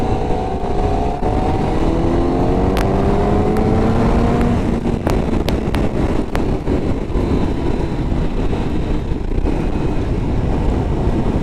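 A Honda CBR1000RR-R sport motorcycle accelerates hard at full throttle with assists switched off, its engine roaring loud and close with rising tones and gear changes beneath heavy wind rush.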